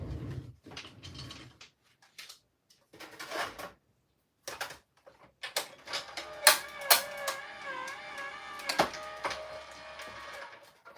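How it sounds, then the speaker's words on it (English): A paper die runs through a die-cutting machine, making intermittent ratcheting and grinding bursts with short pauses, then a longer stretch of rhythmic cranking with squeaky tones, close up. "I'm going to run this through my machine."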